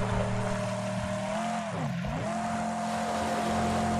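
A vehicle engine hums steadily in a video game, a smooth droning tone that dips briefly as if the car slows or shifts, then resumes at an even pitch, fairly quiet with no talk.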